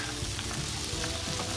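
Kung pao chicken ingredients with peanuts and capsicum fry in a hot pan, giving a dense, continuous close sizzle with no voices.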